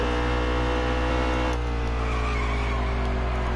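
A race car engine at ISM Raceway in an Xfinity Series racing video game, a loud continuous droning roar with shifting pitch and tire squeal, steady throughout.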